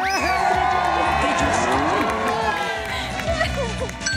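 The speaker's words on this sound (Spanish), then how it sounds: "Un aplauso para los Ortiz" A game show studio audience applauds and cheers loudly and steadily, a dense crowd roar with claps running throughout, mixed with talk and announcer voices on top.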